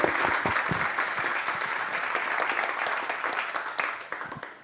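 Audience applause at a book launch fills the room, steady dense clapping from a crowd that holds for several seconds before gently tapering off.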